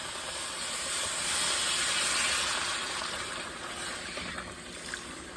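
Water poured into a hot pan of pot roast with chanterelle mushrooms sets off loud, steady steaming and hissing that swells, then slowly eases over several seconds, with no talk.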